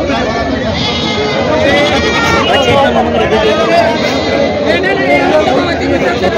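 Goats bleating amid a crowded livestock market in Parbhani, Maharashtra, with constant chatter and speech babble from many people underneath dense, overlapping animal calls.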